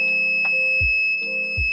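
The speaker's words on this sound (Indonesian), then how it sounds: "maka si buzzer akan menyala" Electronic buzzer in a light-triggered automatic night lamp and morning alarm circuit, sounding loud, close pulsed tones in a repeating pattern of two cycles.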